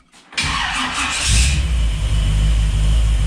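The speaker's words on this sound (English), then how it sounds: "the car started right up and sat there and idled on its own" A 1955 Chevy hardtop engine cranks briefly and catches, then settles into a steady, loud, close idle that runs on its own with no one talking.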